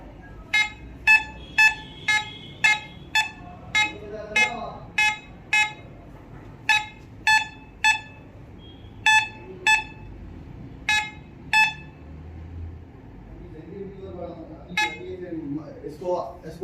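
A Fisher F11 metal detector held against a wall indoors gives a long series of sharp, loud electronic beeps in an uneven rhythm, with a short pause partway and quieter voices near the end.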